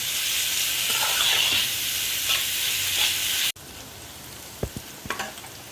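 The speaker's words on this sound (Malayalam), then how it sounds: "ഇത് നല്ല പോലെ ഒന്ന് വഴന്ന് വരട്ടെ" Onions with a pinch of salt sauté in a pan for a beef and potato curry, sizzling loudly and steadily at first, then dropping to a quieter fry with a few close scrapes of stirring.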